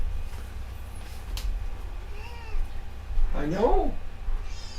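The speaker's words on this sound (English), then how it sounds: "You guys hear this poor kitty having her night terror?" A house cat gives a distressed, wavering meow during a night terror, a clear rising-and-falling cry near the end, with a person speaking briefly in the room and low background hum.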